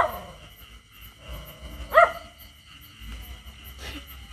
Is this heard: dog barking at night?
yes